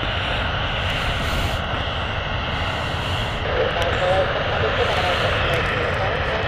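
A Ryanair jet at Stansted Airport gives a steady, broad roar that stays even and moderately loud throughout, with a faint voice briefly emerging partway through.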